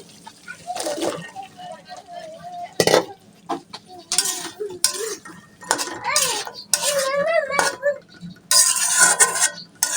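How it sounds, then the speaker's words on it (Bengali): Taro (kochurmukhi) stirred into fried spice paste in a pan, with a spoon scraping and clattering in irregular bursts and some wet sloshing, while a voice talks in between. "ধীরে চেড়ে মশলার সাথে কচুরমুখীগুলাকে মেখে নিলাম কচুরমুখীগুলো দিয়ে একটু কষিয়ে নিলাম"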